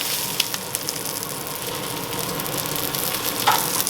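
Steak frying in a pan on a stovetop, a loud steady close sizzle that carries on without a break, with a few faint clicks and no talking.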